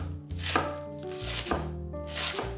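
Knife finely chopping a bunch of green onions on a cutting board, a few close, crisp rhythmic cuts with short pauses between bursts, no talking.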